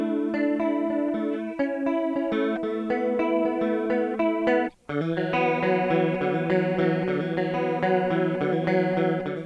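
Guitar chords through a Boss CE-2W Waza Craft chorus pedal, pushed to extreme rate and depth, shimmer and warble loudly and alone, with a brief break partway through before a new chord rings on.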